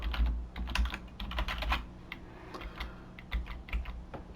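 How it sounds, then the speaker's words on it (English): Numbers are typed on a computer keyboard in quick irregular bursts of crisp clicks, close and clear, with short pauses between the runs of keystrokes. "I'll just type some numbers and a savings account"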